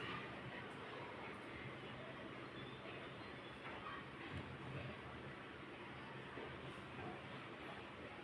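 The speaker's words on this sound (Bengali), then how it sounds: "এই তো আমরা যেতে যেতেই দেখলাম একটা ট্রেন চলে যাচ্ছে।" A Dhaka metro rail train passes along an elevated line, giving a steady, continuous rumble with wheel and rail noise that holds throughout at moderate level, recorded from a nearby station platform.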